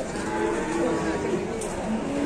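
Cattle, Friesian Holstein and Limousin beef cattle being unloaded from a truck, give low, drawn-out moos over a constant wash of outdoor background noise.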